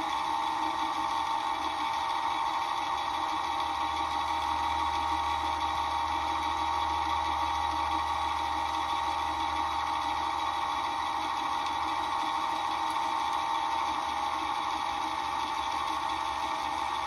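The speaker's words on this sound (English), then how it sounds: "press your foot pedal and let it do its thing" A Singer 5528 sewing machine winding its bobbin, a steady, continuous motor whir with a high humming whine that holds unchanged throughout, close and alone.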